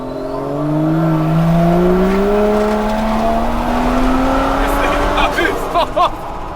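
Turbo Toyota Barra inline-6 in a restomod Landcruiser FJ45 revving hard and climbing through the gears with rising tonal whine, loud and sustained, then settling near the end.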